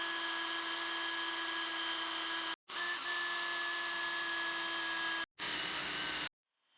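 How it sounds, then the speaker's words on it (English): A drill bores holes in a steel bracket for a garage fan mount. It gives a steady, high-pitched whine in three continuous runs, with brief pauses between them, then stops. No one talks. "I marked the holes with a punch and drilled them out"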